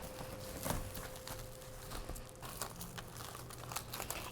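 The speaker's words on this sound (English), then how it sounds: "I like to cover it first in saran wrap." Saran plastic wrap crinkles and crackles close up as it is stretched tight over a baked dish, giving a continuous run of small crisp rustles with no speech.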